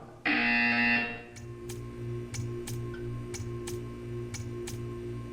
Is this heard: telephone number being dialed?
no